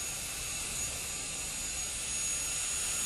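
A dental carbide bur cuts a plastic post and core pattern, producing a steady, loud, hissing high-pitched whine that runs unbroken for a few seconds with no voices.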